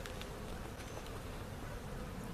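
Honey bees buzz steadily at an open hive with laying worker problems, a dense close swarm hum that continues throughout.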